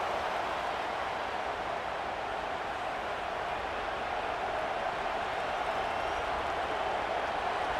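Stadium crowd roar from the College Football 26 video game during a South Carolina vs Alabama matchup, a steady dense wash of cheering and noise holding at constant loudness.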